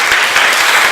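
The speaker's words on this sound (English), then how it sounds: "Can we give them a clap?" An evening audience claps for a panel at a mission conference, producing a steady burst of dense applause for under a second with no voices over it.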